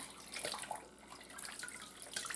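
Warm tap water runs steadily into a kitchen sink while a pot is rinsed under it, a close, continuous splashing wash with no talking.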